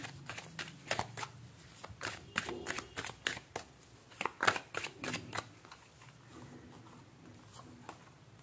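Tarot cards being handled and shuffled at close range, a quick series of sharp riffling snaps and soft slaps in bursts, some louder than others, easing into lighter handling toward the end with no talk.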